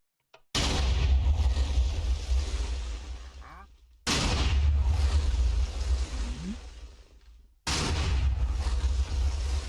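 A Big Bertha TNT cannon fires in a video game: three loud, close blasts a few seconds apart, each opening with a sharp crack and fading into a long, rumbling decay.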